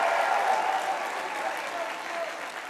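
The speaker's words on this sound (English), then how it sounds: "He gets a standing ovation from the Tottenham fans" Tottenham Hotspur supporters give a sustained standing ovation at a women's FA WSL match against Everton, a broad wash of crowd applause filling the stadium steadily and fading slightly toward the end.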